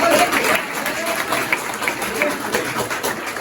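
A group at a New Year party claps steadily for a few seconds, a dense patter of applause with some crowd noise beneath it.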